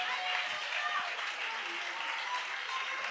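A church congregation bursts into steady, dense applause in acclaim of the Lord, a continuous wash of clapping filling the room from start to finish, with voices mixed in.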